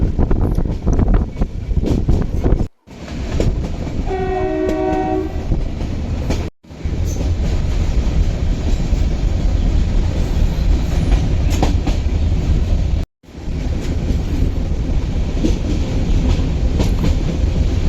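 A passenger train runs on the line from Junagadh to Sasan Gir through the Gir forest, its loud continuous rumble and rattling carriages heard from on board, with a brief horn blast and a few short cuts in the sound.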